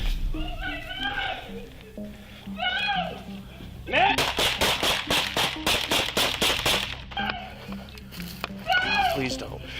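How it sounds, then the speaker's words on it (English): Police officers firing guns in a rapid burst of about a dozen sharp shots, loud and close, between stretches of shouting voices. "The officers immediately open fire, striking him 12 times."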